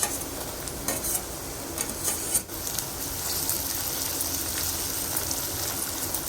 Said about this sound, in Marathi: कांदा थोडा लाल झाला की त्यामध्ये आपण बारीक चिरलेले टोमॅटो टाकूया